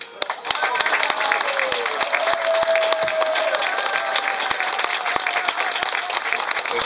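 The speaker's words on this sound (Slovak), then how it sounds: "Ten aplauz je pravý, nefalšovaný" Audience applause at an award ceremony for a local municipal honor, a steady dense patter of many hands clapping throughout, with a voice speaking over it.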